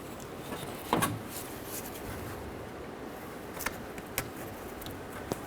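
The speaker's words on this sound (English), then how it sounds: "Listen for a click, give it a tug." A connector locking onto the vapor canister purge solenoid valve of a 2006-12 Ford Fusion, giving a sharp click among several faint taps and rattles, quiet and close, with no talk.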